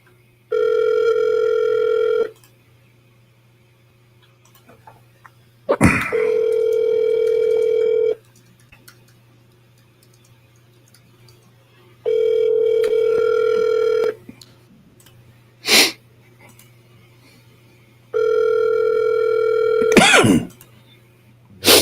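Telephone ringback tone heard while phoning a home seller, four long steady tone bursts of about two seconds each separated by pauses, clear and alone over a faint hum, with a few short clicks.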